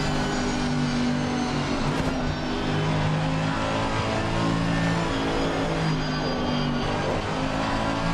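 A GT3 race car engine drones steadily and loudly through a Blancpain GT3 round at Paul Ricard in Assetto Corsa Competizione, with a sustained high revving tone and slight pitch shifts as the throttle eases and returns.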